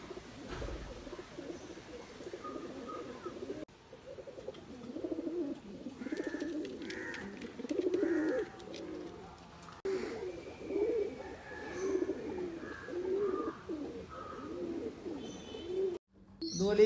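Fancy pigeons offered for sale in Malappuram coo in soft, low, repeated bursts throughout, fairly close, with faint background noise and brief gaps.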